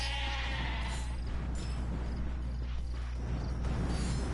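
Faint, wavering bleats from black goats in the video game Ratchet & Clank on PS4 sound intermittently over a constant low hum and a buzzing background.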